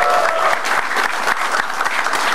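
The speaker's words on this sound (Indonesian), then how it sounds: "Tapi tepuk tangan dong buat Mas Wisben." A studio audience at an Indonesian stand-up comedy show gives a comedian a loud, dense burst of clapping that stays full and close throughout the short stretch, with scattered crowd noise mixed in.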